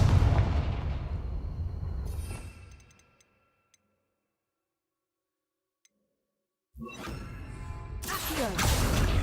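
Confringo spell blasts in Hogwarts Legacy, a loud rumbling burst that fades into several seconds of near silence with faint ticks, then fresh sharp blasts and crackling impacts return at close range.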